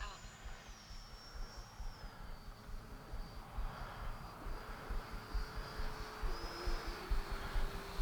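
An FMS Futura 64mm sport jet model flies with a steady, thin high-pitched turbine whine that shifts slightly in pitch as it passes. The sound is distant and moderately faint over wind and low rumble.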